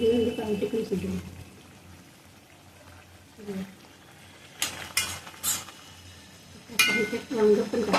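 Water is poured in short splashing bursts into a pan of Marathi vegetable curry made with pavta beans, brinjal, potatoes and tomato. The splashes are mixed with faint utensil clatter and quiet stretches in between.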